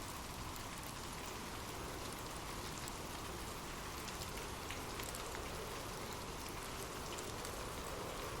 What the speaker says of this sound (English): drift off to sleep with rain